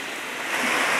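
Small waterfall tumbling into a little reservoir at a dam on a forest trail, a steady broadband rush of falling and flowing water that swells slightly louder toward the end, with no voices.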